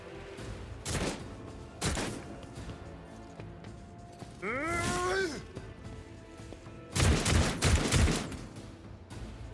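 Gunfire in Warhammer 40k: Rogue Trader during an assault on an anti-aircraft battery: separate sharp shots, then a sweeping tonal effect, then a loud cluster of rapid impacts near the end.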